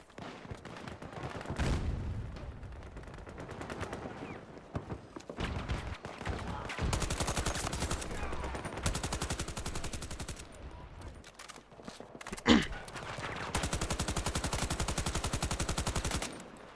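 Turret firing in Battlefield 2042, long bursts of rapid automatic fire rattling in sustained stretches, with other gunfire, a sharp blast and game noise between bursts.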